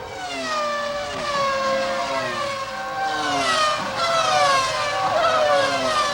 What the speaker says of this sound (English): Welcome sound of Formula One engines.